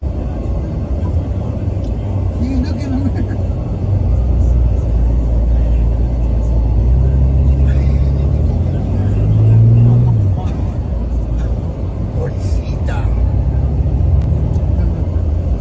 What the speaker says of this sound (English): Shocking video shows a seemingly oblivious driver towing an out of control vehicle.